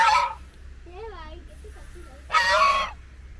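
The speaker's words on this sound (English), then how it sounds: "Duck is there, yeah." A duck calls near a beach, with a couple of loud honking bursts at the start and end and quieter, wavering calls between them, close by and mostly alone.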